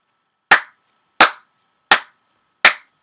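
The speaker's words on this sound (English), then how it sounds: "Gotta give them a clap." Four slow, deliberate hand claps, close and crisp, evenly spaced with silence between each.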